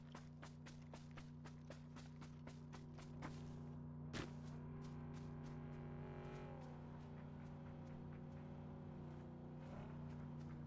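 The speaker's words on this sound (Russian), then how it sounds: "Там тачка подъехала в дом, из-за ней еще снизу проезжает." A car in PUBG Mobile driving up to a house: a faint, steady engine drone runs throughout, with a few clicks and taps over it and no talk.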